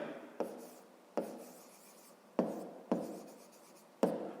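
Pen strokes scratching across paper while working a grade 5 maths problem, a few separate scribbles with short pauses between them, close and quiet with no talking.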